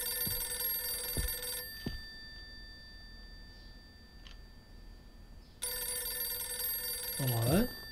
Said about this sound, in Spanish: Escucho un teléfono.